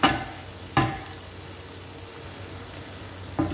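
Onion and curry leaves frying in a pan hiss steadily, broken by three sharp scraping stirs near the start, just under a second in, and at the end.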